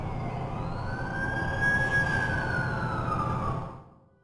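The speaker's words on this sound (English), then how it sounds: "That's the ambulance I called." An ambulance siren in the video game The Amazing Spider-Man 2 gives a single long, rising-then-falling wail over a low rumble of traffic, then quickly fades out at the end.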